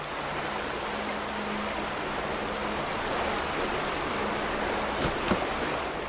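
Steady flowing water rushes continuously in the video game The Vanishing of Ethan Carter, a broad even stream-like wash, with a couple of faint brief clicks near the end and no talking.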